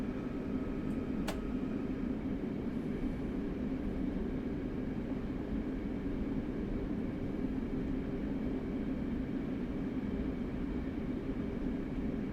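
A steady low rumble of an LIRR commuter train on the New York–Long Beach, Hempstead and Hicksville routes in Train Sim World 4, with one faint brief click early on and no talking.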